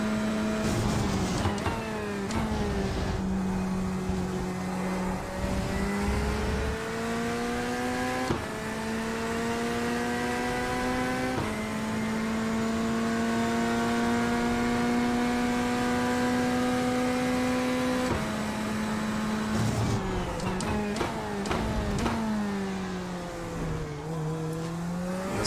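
A GT race car engine in a racing video game drones loudly and steadily for the whole stretch, pitch climbing through long gear pulls and dropping on shifts, with a buzzy, motorcycle-like tone and brief downshift blips near the start and end.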